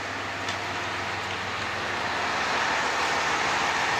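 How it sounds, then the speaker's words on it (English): A diesel train engine rumbles steadily near Tottori Station, a continuous low drone with broadband mechanical noise that holds level and grows slightly louder toward the end. "I love the engine sound of the diesel train."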